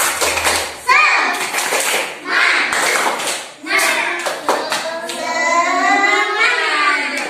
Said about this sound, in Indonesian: Tepuk semangat yuk.